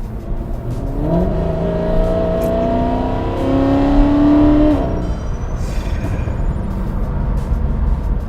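A Mercedes-Benz SLS AMG with a dual-clutch transmission accelerates hard, its engine note climbing through rising revs with quick, instant gear shifts, loud and close, then easing off into a steady drone.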